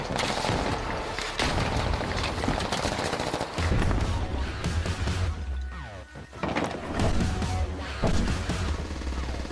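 Gunfire in a tactical military shooter game, with sustained bursts of automatic fire, heavy booms and crashes that build into a dense, loud barrage throughout.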